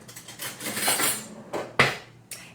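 A knife trims excess paleo pear tart dough, giving a few sharp clinks and scraping taps close by, with short bursts separated by quiet gaps and no talking.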